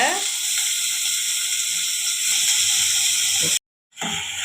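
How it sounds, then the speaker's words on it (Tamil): Finely chopped onion sautés in a little oil in a kadai, giving a steady, close sizzling hiss that cuts out briefly and then resumes. "வெங்காயம் லைட்டாக வதக்கி விட்டுக்கோங்க."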